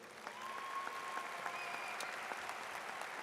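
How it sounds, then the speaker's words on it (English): A graduation ceremony audience at Guilford Technical Community College applauds in a large hall, a steady, fairly distant wash of clapping from many people that holds evenly throughout. "So let's give Anna a round of applause."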